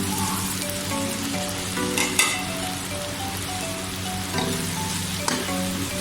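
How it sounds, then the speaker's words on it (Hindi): Shredded chicken fries in a masala base, giving a close, steady sizzle and crackle with a few sharper pops and stirring clatters, while sustained tonal notes run underneath. "दो मिनट तक भूनेंगे।"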